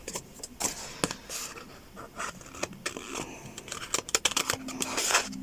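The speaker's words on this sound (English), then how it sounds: "Okay, so we need to cut this out. So let's grab the scissors." Scissors snip through craft paper in a run of quick, close, crisp cuts with irregular rhythm, fairly quiet and without talk.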